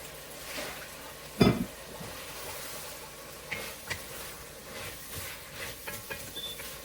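Vegetables and diced potatoes sautéing in a pan for broccoli cheddar soup, a soft steady sizzle with faint stirring clatter and one louder scrape near the start.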